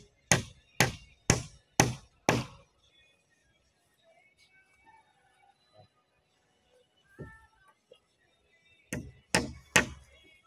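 Hammer strikes ring out while a bahay kubo hut is being built in Albay: five sharp, evenly spaced blows, a quiet stretch with faint clatter, then another quick run of four loud hits.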